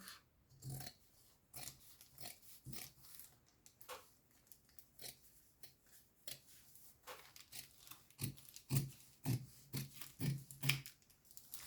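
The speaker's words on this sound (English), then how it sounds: "Scissors are very sharp, eh?" Sharp scissors cut paper while an envelope journal is made, a run of separate crisp snips and rustles, close and fairly quiet, growing denser toward the end.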